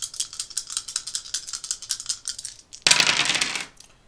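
Three dice clatter across a tabletop during a tabletop car-combat wargame, a long run of rapid, close clicks and tumbles, then a dense rattling burst before they settle.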